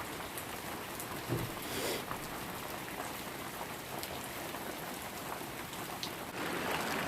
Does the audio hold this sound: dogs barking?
no